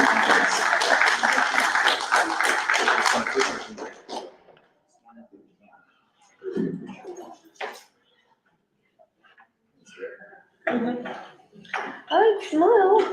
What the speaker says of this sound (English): So we'll give you a big round of applause and thank you again so much